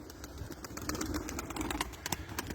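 Pigeons inside a wooden coop, faint and close, with soft cooing and scattered chirps over a steady background rustle, a few brief sharper calls standing out.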